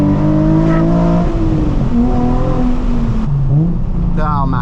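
A Nissan 350Z HR accelerates hard along an open road at night, its engine note rising and dropping through gear changes, loud and close, with some speech over it.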